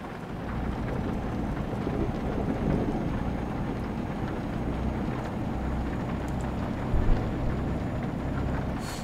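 Thunderstorm with steady rain on a steep mountain road in Romania, a continuous broadband wash of rainfall and low rumbling with a brief louder burst near the end, no voices.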